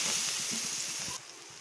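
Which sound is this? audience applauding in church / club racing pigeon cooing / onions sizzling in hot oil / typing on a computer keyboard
onions sizzling in hot oil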